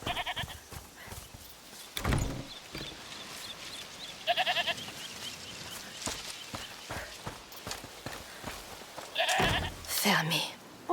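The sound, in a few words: goat bleating in the video game A Plague Tale: Requiem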